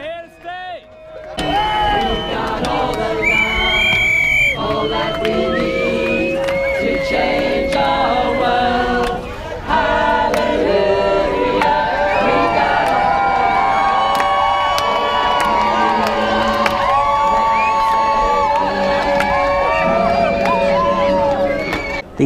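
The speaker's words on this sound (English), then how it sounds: "the crowds, the chanting, the singing, the cheers" An Extinction Rebellion protest crowd chants, sings and cheers loudly, with drumming, whoops and shouts layered over a dense, sustained wall of voices.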